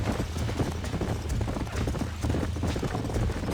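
Horse hooves clip-clopping with a brief neigh in the Red Dead Redemption video game, a steady busy gait close by that fills the whole stretch.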